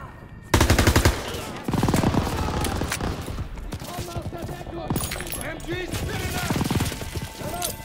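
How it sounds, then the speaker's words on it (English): Sustained machine gun fire sweeps a Normandy beach in the Call of Duty WW2 video game, loud continuous bursts mixed with scattered gunshots and battlefield chaos, with voices shouting over the din. "MGs are still sweeping the beach!"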